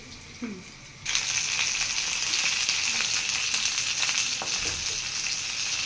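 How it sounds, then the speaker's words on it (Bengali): Cauliflower pakoras deep-fry in hot oil, a loud continuous bubbling sizzle that starts abruptly as they drop in and holds steady throughout, with no talking. "এই যে লাল লাল করে সবগুলো পাকোড়া লাল লাল করে ভেজে নেব।"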